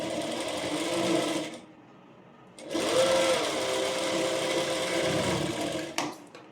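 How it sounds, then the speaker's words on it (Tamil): Sewing machine stitching the shoulder seam of a three-dart blouse, running loud and close in a steady whir, stopping briefly around the middle, then restarting for another sustained run before halting. "ஸ்டிச் பண்ணியாச்சு ஷோல்டரு."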